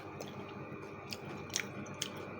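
Close, quiet chewing of crispy, overcooked fried tofu batter, with a few sharp crunchy bites standing out over a soft steady munching background.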